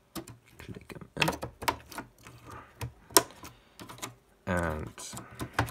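RAM memory modules pressed into motherboard slots, giving sharp plastic clicks and snaps in an irregular sequence, close and fairly clear, with someone talking between them.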